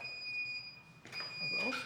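A steady high electronic beep tone from a Horwin EK1 electric scooter sounds throughout, briefly dropping out, with muffled movement and a soft voice near the end.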